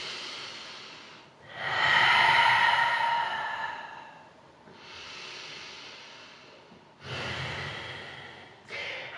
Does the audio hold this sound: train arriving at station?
no